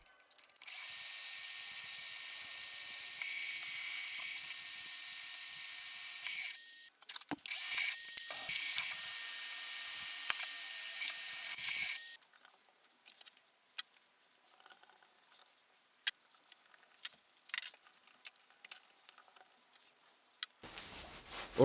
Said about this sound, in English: So I'll take it to the mill and then get those drilled and tapped.